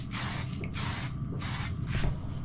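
Spray paint can hissing in three bursts as a coat goes onto a rotten Yamaha XT660 exhaust under repair, each long close spray separated by short pauses over low background rumble.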